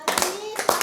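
Children clap their hands in a brief, close burst of a few quick claps while a voice speaks over them.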